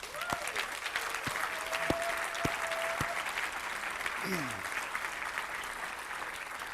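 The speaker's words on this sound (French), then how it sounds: "je pense que ça mérite une bonne main d'applaudissement" Church congregation applauding steadily throughout, a dense wash of many hands at even loudness, with a few faint tonal cries and whistle-like sounds rising above it.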